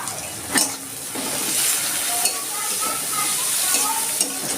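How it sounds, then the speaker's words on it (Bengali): Chopped onions sizzling and frying in a pan with salt and turmeric, a steady close crackle with a few sharp stirring scrapes across it. "পেঁয়াজটা ভাজা ভাজা হয়ে গেছে"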